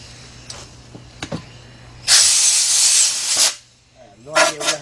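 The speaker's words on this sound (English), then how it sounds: "Let me get an air hose, guys. I'll be right back. Alright, guys. We got our air blower." Compressed air from an air blower blasts dirt out of a 2006 Kia Sportage 2.7 engine bay during engine removal: one loud, steady hiss lasting over a second, with quieter clicks before it and a voice just after.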